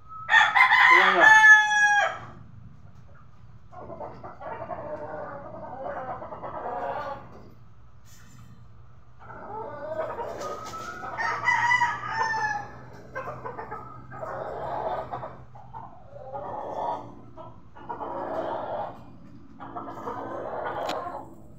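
A rooster crows loudly and close at the start, followed by repeated clucking and short calls from chickens in bursts, with a low steady hum in the background.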